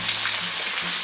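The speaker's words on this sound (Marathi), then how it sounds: "तेल आपलं आता चांगलं गरम झालंय, आपण पहिलं त्यात कांदा घालायचा." Onion hitting hot oil in a pan while making vatan masala, a loud, close, hissing sizzle that stays steady through the short moment.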